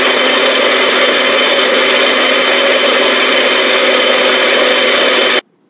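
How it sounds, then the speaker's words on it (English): A blender runs steadily on muffin batter with chocolate chips, a dense continuous whir at constant pitch, loud and close, that cuts off abruptly at the end. "And you're going to blend them until smooth."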